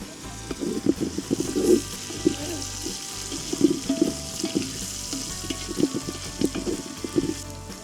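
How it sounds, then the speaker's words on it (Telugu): Ginger garlic paste frying and being stirred in a pot for crab biryani, a steady soft sizzle with scattered scraping stir strokes and clinks, close and moderate, no talking. "అల్లం వెల్లుల్లిపాయ పేస్ట్ వేసుకొని పచ్చివాసన పోయేదాకా కలుపుకుంటూనే ఉండాలి."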